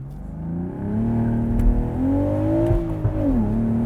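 A 2025 BMW Z4 M40i with a six-speed manual revving hard, the engine note climbing steadily in pitch with a brief dip at a gearshift, then rising again, close and loud with no talk.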